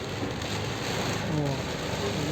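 Heavy typhoon rain pours without pause in a loud, steady roar, with a faint voice partly underneath it.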